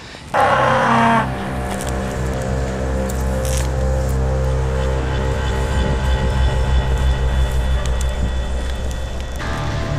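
A cow moos loudly and close by in open countryside near a railway viaduct, one long deep low call that carries on for many seconds, with a brief brighter burst at its start.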